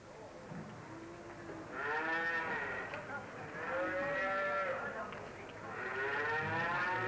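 Cattle lowing at Puck Fair, a large cattle and horse fair in Kerry: three long, drawn-out moos in succession, each swelling and fading, against a soft background murmur.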